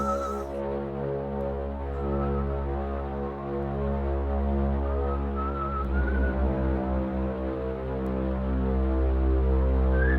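Someone whistling a melody from Donizetti's opera Lucia di Lammermoor, clear sustained whistled notes in a slow phrase, close and moderately loud, over a low steady hum.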